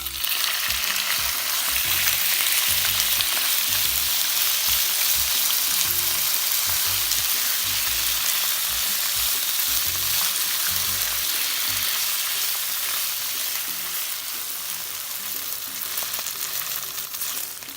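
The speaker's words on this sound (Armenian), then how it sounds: "Հավի կրծքամիսը անընդհատ խառնելով միջին կրակի վրա տապակում ենք մոտ 10 րոպե։" Chicken breast fries over medium heat in a pan while being stirred constantly, giving a loud, unbroken sizzle and crackle with scraping stir sounds throughout, without talk.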